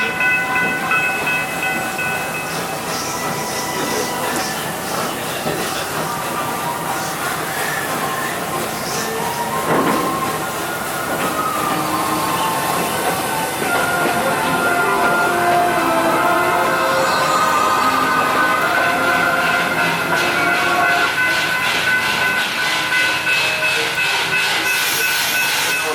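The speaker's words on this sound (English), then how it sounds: "All aboard as we make our way to the Tweedside Station." Steam train ride at Busch Gardens Williamsburg theme park, a continuous rolling rumble and hiss of the railroad cars with clanking and a brief whistle-like tone, steady and close throughout.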